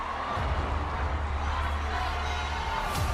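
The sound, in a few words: audience crowd screaming and cheering for Marcelito at AGT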